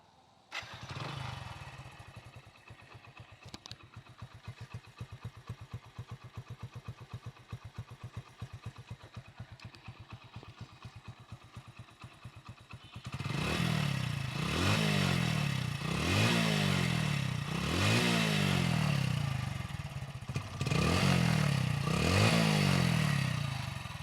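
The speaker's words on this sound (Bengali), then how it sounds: "গাড়ির সাউন্ড আপনারা শুনতেই পারলেন একেবারে নতুনের মতো সাউন্ড আছে" A Hero Splendor Plus i3s motorcycle engine starts and idles with a steady close putter, then is revved repeatedly in rising and falling surges, with no talk.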